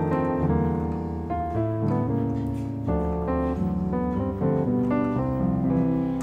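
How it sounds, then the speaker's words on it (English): Gospel piano voicing a 13th chord and moving from the 4 chord to the 3, a series of rich sustained chords with a melodic passing line, played alone and close. "it's a 13th chord on the 4 to your 3"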